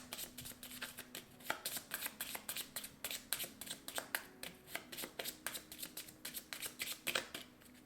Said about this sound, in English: Shuffle these boys.